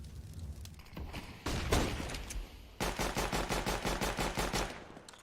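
Rapid video-game gunfire in a Counter-Strike match on the Dust2 map: a few scattered shots, then a loud burst, then a steady run of evenly spaced automatic shots, close and loud, with no talk.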